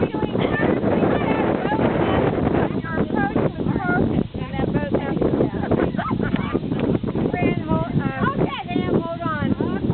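Strong wind buffets the microphone in a constant roar while a boat is docked, with several people talking loudly and continuously over it.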